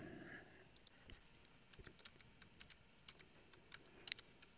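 Rapid, uneven keystrokes clatter on a computer keyboard while radio channel frequencies are entered into programming software. The clicks are close but fairly quiet, in bursts with short pauses and a few firmer key presses.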